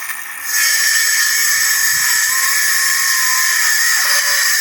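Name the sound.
small cordless drill with weak battery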